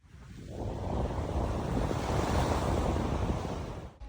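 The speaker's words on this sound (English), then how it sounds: "It's an absolutely beautiful beach." Ocean waves wash steadily onto a beach at a Caribbean resort, a loud continuous broadband surf roar with some wind, building in over the first half second and holding without talk.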